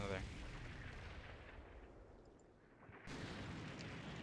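Autocannon and tank gunfire rumble through a Combat Mission battle, a dense, continuous low roar of distant shots and blasts that drops briefly before surging louder again.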